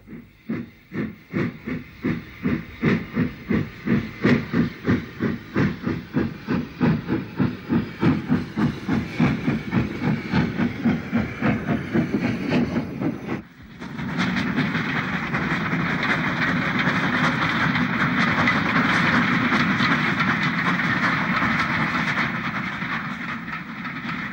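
A steam locomotive chuffs rhythmically as it pulls away from Northiam station toward Tenterden, the beats quickening, then gives way to a steady rushing hiss of rolling wheels and steam.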